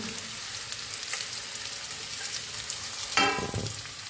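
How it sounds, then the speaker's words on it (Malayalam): Onions and green chillies sizzle steadily in a hot pan for ginger curry, a constant close frying hiss, with a louder scraping stir near the end and no voices. "നമുക്ക് ഇളക്കി കൊടുക്കാം ഭയങ്കര ചൂടായതുകൊണ്ട് ഇതാകുമ്പോൾ അങ്ങനെ ഉള്ളിയും ഒരുവിധം വാടി വരുന്നുണ്ട്"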